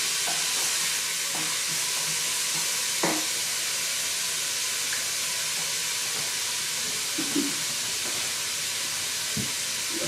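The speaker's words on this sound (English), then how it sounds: "I'm going to stir our pot" A pot of ham and potato soup is stirred: a constant loud hiss of steam and bubbling, with a few soft scraping knocks of the spoon against the pot scattered through.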